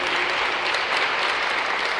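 Applause fills a prayer group gathering for a sister present that night, a dense, steady wash of many hands clapping close and loud for the full two seconds, with no break.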